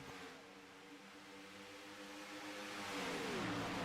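Restrictor-plate-free race car engines roar in a sim racing super speedway game, a dense multi-car drone with layered engine tones that swell louder toward the end, no talking.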